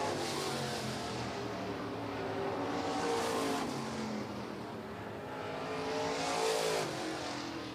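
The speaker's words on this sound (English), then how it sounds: "Josh Dietz there in the number 9, finishing his hot laps" Race car engines roar through hot laps at Florence Speedway, a loud continuous howl that swells and fades twice as cars sweep past, with no talking over it.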